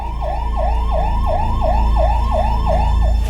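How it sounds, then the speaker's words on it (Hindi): An ambulance siren wails in a fast, repeating yelp pattern over a low vehicle rumble, steady and fairly close throughout. "गोलियों की आवाज और हैंड ग्रेनेड के धमाके की जगह अब एम्बुलेंस के सायरन ने ले ली थी।"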